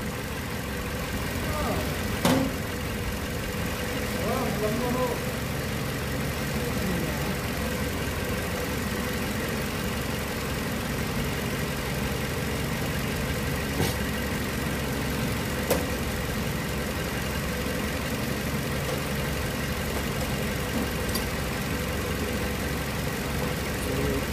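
Toyota Camry SE engine idling steadily after an overheating repair and water pump replacement, a constant mid-low hum with a couple of sharp clicks, under occasional nearby talk.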